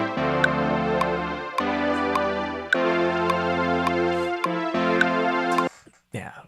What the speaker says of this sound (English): Yeah, nice, lush, full sound recorded with one of his great synths he has.